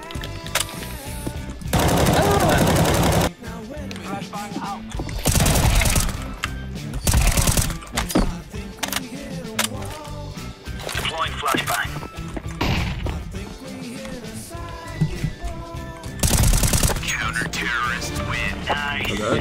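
AK rifle fire in Counter-Strike, several bursts of rapid automatic shots, loud and close, interspersed with quieter stretches of game sound and someone talking.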